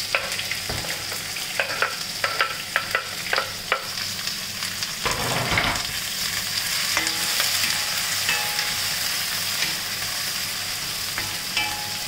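Sliced onions, cut long, fry in a pan for kadhi, with a steady sizzle and scattered clicks of stirring near the start and a louder scrape midway, no talk.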